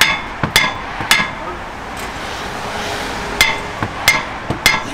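A hammer smacks the back of a brake disc on a Honda Civic FN2 during a brake pad and disc change, giving about eight sharp, loud metallic strikes in irregular bursts over a quiet workshop background.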